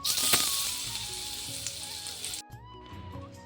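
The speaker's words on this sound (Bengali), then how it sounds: "এবার আমি আলুগুলো ভেজে নেব।" Potatoes fry in hot oil with a loud, steady, crackling sizzle close by. The sound drops suddenly to a softer sputter partway through.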